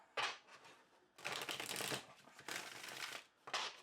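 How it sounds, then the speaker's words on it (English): Limited-edition gold Smith-Waite tarot cards, slightly stiff, being shuffled up close, quick riffling bursts separated by brief pauses, crisp papery flutters with no talking. "let's see how it shuffles"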